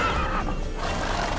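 Roach the horse neighing in the video game The Witcher 3, a loud close whinny rising over galloping and ambient game sound, heard alone without talk.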